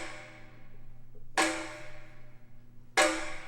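Layered bamboo hit and snap snare in a beat, two sharp bright hits about a second and a half apart over a steady low hum, clear and alone.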